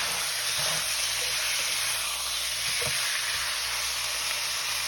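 Pork pieces sizzle steadily in a hot pan while being browned for adobo, a dense, loud, continuous frying hiss with occasional stirring clinks and pops, no voices.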